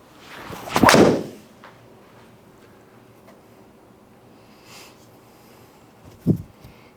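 A golf driver strikes a ball during a driver fitting at a GolfTEC studio, one loud sharp impact early on, with a fainter second hit near the end in a quiet room.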